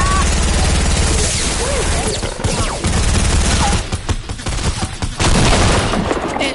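Rapid, loud gunfire in Fortnite, near-constant bursts of automatic shots with brief lulls, accompanied by excited voices talking over the action.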